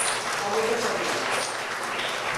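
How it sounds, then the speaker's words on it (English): Audience at the San Fernando Arts Council Sanfest launch applauding to welcome performers, a steady dense wash of clapping, moderately distant and even throughout. "let's welcome them with a round of applause"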